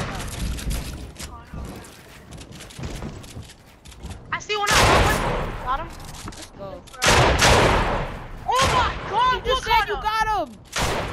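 Video game gunfire in a multiplayer battle match: loud bursts of shots and booming blasts crowd the mix, with whizzing, sweeping effects near the end, under excited talk from players.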